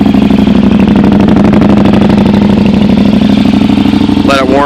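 Loud, close KTM 950 SM supermoto motorcycle engine idling just after starting, a steady rapid chugging pulse, continuous throughout, with a brief higher rise near the end.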